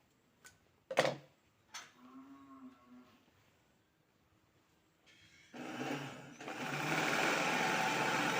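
A sewing machine stitches a kebaya: a few faint clicks and a soft hum at first, then the motor runs up into a steady, fairly loud whirring buzz that continues to the end.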